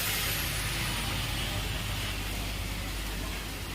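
Heavy rain pours down outdoors in a steady, dense hiss with a low rumble underneath, loud and unbroken throughout.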